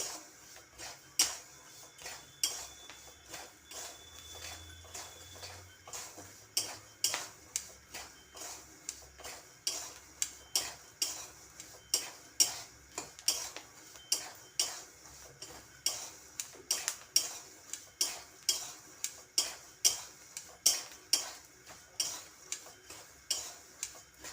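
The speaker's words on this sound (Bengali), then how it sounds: "বাদাম ফোটা শব্দ তোমরা পাচ্ছ কি না আমি বুঝতে পারছি না কিন্তু বাদাম কিন্তু ফুটছে" Steady dry ticking pops crackle in a quick irregular rhythm, close and fairly faint, peanuts roasting in salt in a dry pan.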